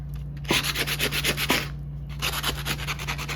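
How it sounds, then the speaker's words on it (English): Sandpaper rubbed back and forth along a wooden branch being smoothed for a handmade broomstick, producing a close, loud rhythmic rasping in steady strokes with a brief pause partway. "I'm just using one of these sandpaper to help smoothen the surface of the entire branch."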